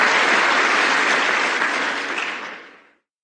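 A hall audience applauds a speaker at a Brazilian TFP gathering, with dense, even clapping from many hands that stays steady and then tapers off to silence.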